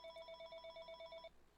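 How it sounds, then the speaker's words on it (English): A telephone rings with a rapid electronic trill in short repeated bursts, moderately faint in a quiet room, then stops. "Oh, that's the phone."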